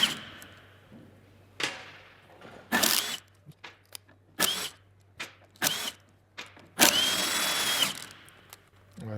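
Power tool undoing the five screws that hold a half shaft to the axle, sounding in several short bursts of whirring and rattling with quiet gaps between them, up close.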